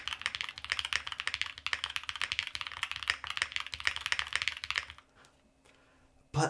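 Fast, steady typing on a Mode SixtyFive mechanical keyboard, with dense clacking keystrokes close to the mic that stop abruptly near the end.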